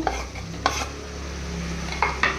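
Tomato being stirred into a bottle gourd curry in a pan, a spoon scraping and mixing in a few distinct strokes over a soft, steady sizzle.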